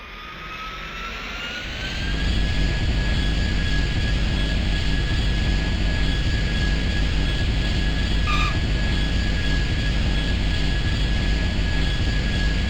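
An airplane in a flight simulator game taxiing slowly toward the runway, its jet engine whine swelling after the first two seconds into a steady, loud, continuous drone with a rising tonal hum.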